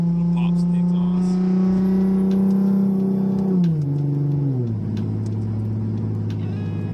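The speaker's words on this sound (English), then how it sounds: "Yeah, you get the little pops and the exhaust." A modified Lexus IS350 revs with a strong droning exhaust note that holds, then steps down in pitch as the revs fall, with faint crackling pops on the overrun and voices talking underneath.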